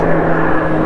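A jet airplane passing overhead makes a steady, broad roar that holds at an even level through a short moment, heard outdoors with no talk over it.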